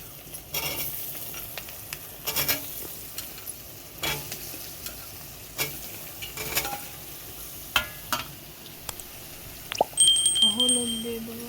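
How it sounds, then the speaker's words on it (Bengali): Soybean chunks frying in a pan: a soft background sizzle punctuated by intermittent sharp stirring clatters and scrapes, close by, with a brief tonal beep near the end. "সোয়াবিনগুলো দিয়ে দেবো ভাজার জন্য।"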